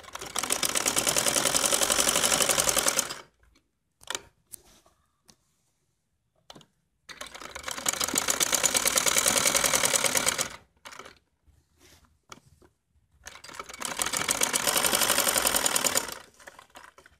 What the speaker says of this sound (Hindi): अब हम इसके एज पर सिलाई लगाएंगे।